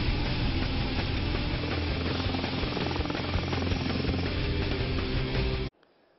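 An Indian light combat helicopter flies steadily overhead, its loud, dense rotor and turbine roar continuous and close before cutting off abruptly near the end.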